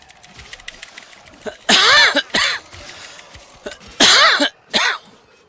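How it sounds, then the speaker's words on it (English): Someone coughs hard during a Warframe PC game stream, two harsh pairs of coughs spaced a couple of seconds apart, with quieter game sounds underneath. "My apologies for the cough"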